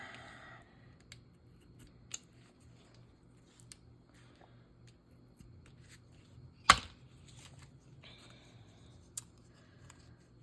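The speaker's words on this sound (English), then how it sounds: "Let's see if I can trim this. I really need my little bitty good scissors." Scissors trim material in a few quiet, separate snips, with one sharp louder cut near the middle and soft handling noise between them.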